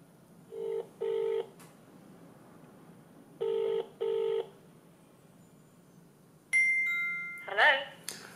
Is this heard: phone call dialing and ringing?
yes